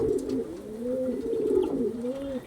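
Andhra pigeons coo in a steady, rolling stream of low warbling calls that carry on for the whole stretch, fairly close and with no voices.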